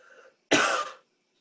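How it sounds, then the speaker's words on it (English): A single loud, sharp cough lasting about half a second, close to the microphone, from a participant in a sports talk roundtable, preceded by faint murmured talk. "a cough"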